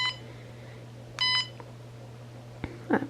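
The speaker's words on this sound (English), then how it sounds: "you can up it and you hear the beep" A K9 Mint bark collar gives a short electronic beep, a brief clear tone burst near the middle, with faint clicks and handling noise around it over a low steady hum.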